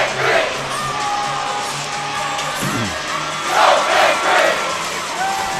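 Students cheer at a high school volleyball game, a crowd roar holding steady throughout with louder whoops and shouts rising toward the end.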